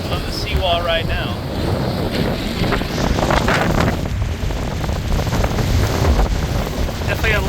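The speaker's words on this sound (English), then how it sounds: "I'm sure the wind is making it really hard to hear me in this camera." Strong coastal wind before Hurricane Milton buffets the microphone with loud continuous rumbling gusts at a seawall by choppy water, while a voice talks faintly underneath.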